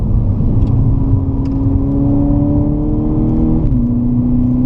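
A Volkswagen MK6 GTI with a manual gearbox pulls hard along a winding road, its engine note climbing steadily over about four seconds before dipping at a gear change, then droning on loud and close throughout.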